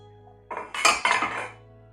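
A pot of boiled potatoes being drained: a short burst of metal pot and lid clanking with splashing water, loud and close, lasting about a second.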